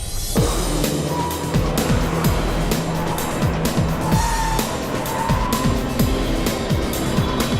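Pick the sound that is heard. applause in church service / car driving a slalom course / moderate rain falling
car driving a slalom course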